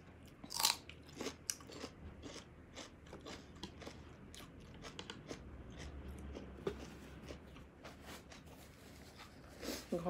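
Close crunchy chewing and biting while eating northern Thai larb, with irregular soft crunches and mouth sounds over a quiet room background.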